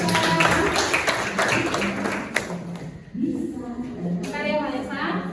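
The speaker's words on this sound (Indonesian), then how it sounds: "Berikan tepuk tangan untuk Vanessa." Students in a classroom clap for a classmate about to read her poem, a brief burst of scattered hand claps that fades out, with a teacher's voice talking over and after it.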